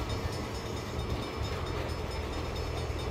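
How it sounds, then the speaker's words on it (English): Train passing in the video game Saints Row, a steady broad rumbling roar of rail cars, continuous and fairly quiet with no voices. "Bad time for a train."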